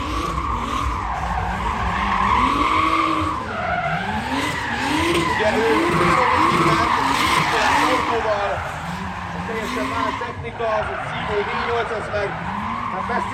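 A turbocharged drift car skids with sustained tire squeal, wavering screeches rising and falling over engine roar at an outdoor drift event, loud and continuous with crowd noise in the background.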